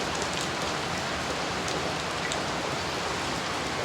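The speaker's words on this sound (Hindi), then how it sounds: "बहुत तेज बारिश हो रही है।" Heavy rain pours steadily in a dense, unbroken hiss, loud and close, with no other sounds breaking through.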